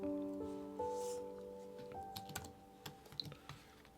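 Someone types on a computer keyboard at a desk, a run of close, light key clicks in uneven bursts, faint and sparse at first, then denser in the second half, with no talk.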